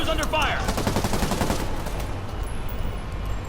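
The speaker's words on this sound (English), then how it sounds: "You can see some thugs shooting at the police there." Rapid bursts of gunfire crackle loudly at the start, then give way to a dense rumbling soundscape with scattered shots underneath, from Marvel's Spider-Man on PS4 as thugs shoot at police.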